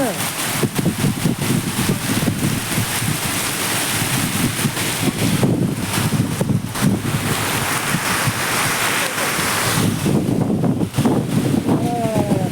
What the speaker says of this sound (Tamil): ஏற்கிலிருந்து வருது காற்று